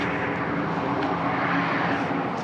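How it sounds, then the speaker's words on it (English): A big dump truck passes near a horse pen, its steady broadband engine and road rumble holding at a constant loud level throughout with no pause. "so we're just going to let that big dump truck get by"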